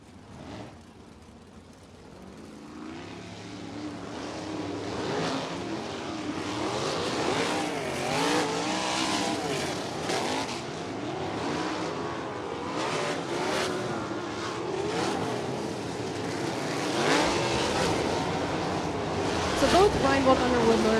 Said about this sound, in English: Both Reinbold Underwood Motorsports cars rolling off here in Car IQ Heat Race number 1